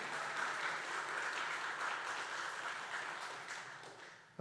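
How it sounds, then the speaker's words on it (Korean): Steady applause from a church congregation at a Sunday morning service fills the space, a dense even patter of many hands clapping that holds at a moderate level throughout. "그냥 계신 줄 알고 한번 박수로 환영하도록 하겠습니다."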